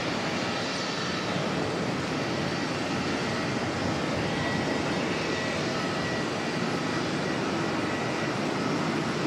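An Airbus A321neo engine at Auckland Airport gives a steady broadband jet roar at moderate distance, holding even throughout with no talk.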